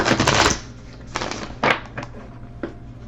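A quick riffling shuffle of tarot cards up close, a dense flutter for half a second, then a few soft taps and slides.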